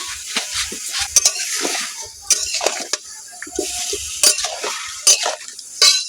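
Chopped raw mango pieces cook with salt in a pot, with a steady bubbling hiss underneath. A spoon clanks and scrapes against the metal in repeated sharp bursts, close and fairly loud.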